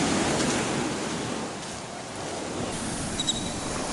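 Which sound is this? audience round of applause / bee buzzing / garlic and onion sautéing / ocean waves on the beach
ocean waves on the beach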